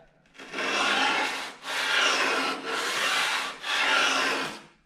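An antique Stanley No. 4 hand plane rubbed back and forth on sandpaper in four long, steady strokes, a close, loud gritty scraping with brief pauses between passes.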